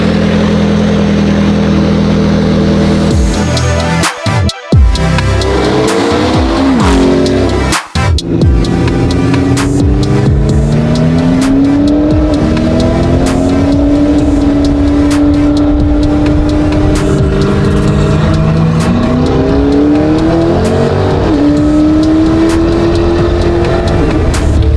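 A supercar engine revs hard outside a hotel, loud and close, rising and falling through repeated high-pitched climbs with brief cutoffs between pulls, then holding a strained, sweeping roar.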